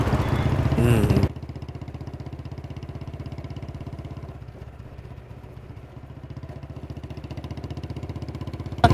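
A motorcycle engine idles close by in a film scene, with a steady low throbbing putter that runs throughout after a brief louder burst of noise at the start.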